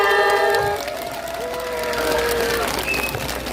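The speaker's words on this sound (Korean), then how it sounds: "다시 한번 힘찬 박수 부탁드리겠습니다" Audience applause at a harmony concert after a girl group's celebratory stage performance, a steady wash of clapping with some crowd noise, fairly close and continuous, while a voice talks over it.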